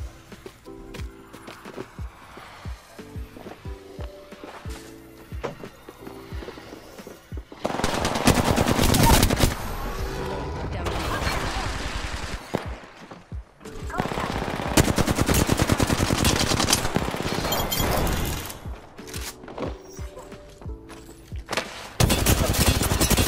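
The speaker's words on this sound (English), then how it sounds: "Opening fire." Automatic gunfire in the Apex Legends battle royale game, long loud bursts of rapid machine gun shots separated by quieter gaps with footsteps and scattered game sounds.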